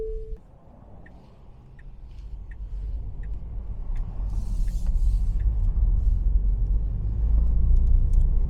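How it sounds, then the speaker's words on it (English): A Tesla electric car pulls away and drives along a road, a low rumble of tyres and road noise building steadily and staying loud inside the cabin, with faint clicks over it. "Right, let's go for a drive."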